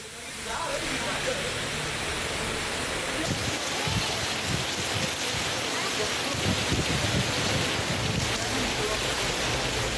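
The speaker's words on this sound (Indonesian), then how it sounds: "Hujan deras disertai angin kencang dan petir melanda seluruh wilayah di Kabupaten Maros, Sulawesi Selatan." A storm with heavy rain and strong wind, bringing thunder and hail, hits Maros Regency in South Sulawesi. Loud, continuous roaring wind and rain buffet the microphone throughout, with deeper gusts surging in waves.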